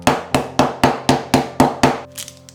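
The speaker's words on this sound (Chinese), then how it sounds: "先敲打黄油，改善延展性。" Eight heavy, evenly spaced thumps strike a firm surface in a steady rhythm, loud and close, each ending in a short dull ring.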